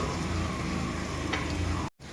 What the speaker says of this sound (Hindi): अब हम मसाले को अच्छे तरीके से भून लेंगे।